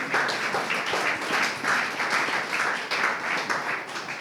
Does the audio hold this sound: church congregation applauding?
yes